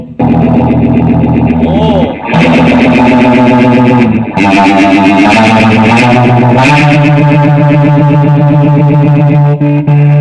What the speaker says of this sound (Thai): ลองใส่อันนี้คู่กับเสียงแตกดู